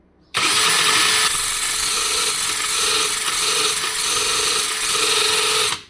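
A cheap AliExpress sharpener for drill bits and knives grinds loudly and continuously at close range, a harsh rasping whir with slight rhythmic pulsing that stops abruptly at the end.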